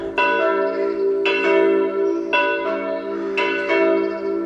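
A parish church bell near the Głogówek market square tolls in slow, even strokes roughly every second, loud and ringing with a long humming decay, heard alone.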